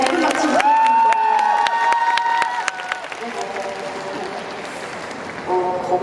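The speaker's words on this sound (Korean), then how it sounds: "큰 박수 부탁드립니다" Audience at a film festival open talk claps and cheers across the stretch, with bright tonal music or a jingle sounding over the crowd at the start.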